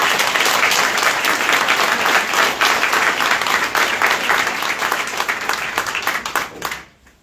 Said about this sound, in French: Et bien, on va les applaudir.